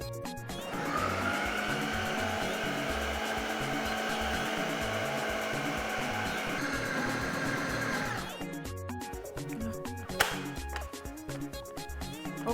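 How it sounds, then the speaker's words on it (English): A food processor pounding yam whirs with a loud steady motor drone for about eight seconds, then shifts to a choppier, thumping churn with a sharp knock near the end, close and without speech. "Time for me to pound my yam with a food processor."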